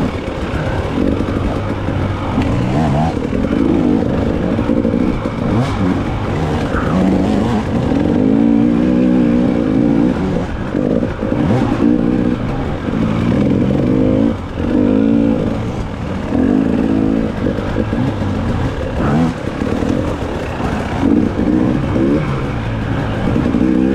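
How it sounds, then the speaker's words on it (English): Dirt bike engines revving hard during a hare scramble race, a loud continuous buzzing roar with repeated sharp rev bursts from a nearby bike, close and unbroken, with no voices over it. "giving me a couple rev bombs there."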